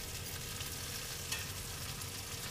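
Breakfast, apparently burrito fillings, fries in a pan inside a Bigfoot Class C RV, heard as a steady, moderately quiet sizzle with a soft hiss and a faint clink midway, no talking.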